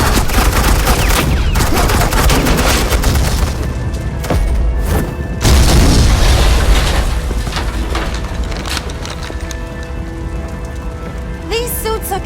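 Suppressing gunfire in the video game Batman: The Enemy Within, a dense, loud and continuous crackle of rapid shots with heavy low booms, sustained throughout with brief dips and no talk.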